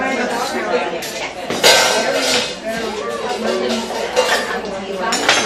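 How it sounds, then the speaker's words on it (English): A pot is lifted out in a home kitchen while making soup, with pans and dishes clinking and knocking in irregular bright clatters, under people talking. "We're going to take out that pot"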